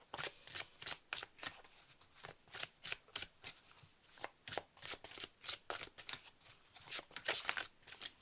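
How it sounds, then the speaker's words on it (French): A deck of oracle cards is shuffled by hand in a quiet room, with brisk, close, rhythmic papery slaps and riffles that repeat steadily for several seconds, and no talking. "il n'y a pas de cartes qui veulent tomber"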